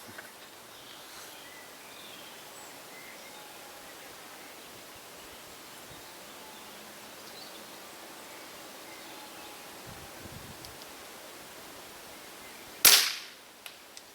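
A single sharp Weihrauch HW77K air rifle shot near the end of a quiet outdoor stretch, fired from a shooting bench at long range, standing out as one crisp report against steady faint background hiss.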